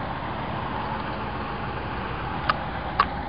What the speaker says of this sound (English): Just get another view lengthways of the car, engine running.